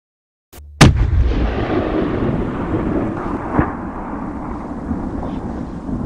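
Two sharp, loud rifle gunshots in close succession after a moment of silence during a roebuck hunt in Poland, followed by a long rolling echo and a fainter crack midway.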